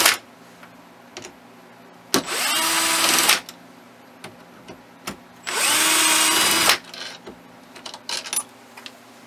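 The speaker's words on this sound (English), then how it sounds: "the next step is to take the three through bolts out" Power tool spinning out the three through bolts on a Ford 6G alternator, two loud close bursts of high whirring, each about a second long, separated by quiet clicks and handling noises.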